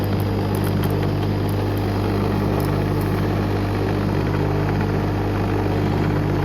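A Kärcher pressure washer drawing water through a suction hose runs continuously with a steady loud motor drone and whine, unchanging throughout, with no voices.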